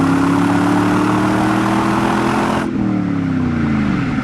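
A 1999 Pontiac Firehawk with a 5.7-litre LS1 V8 and automatic transmission accelerates at three-quarter throttle, its loud, close engine roar rising steadily in pitch with a shift partway through.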